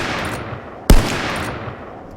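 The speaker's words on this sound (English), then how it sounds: "Let me show you the 50 cal sniper, which also has a louder value in the config" A single booming shot from a .50 cal sniper rifle in ArmA 3 with the MegaSound mod, one sharp loud crack with a short rumbling tail over quiet ambient background.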